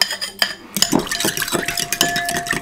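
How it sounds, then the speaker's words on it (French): Spoon clinking and scraping in a bowl as a honey-sweetened sauce is mixed, a close, busy run of stirring taps and knocks with no talk. "On va déjà mélanger ça."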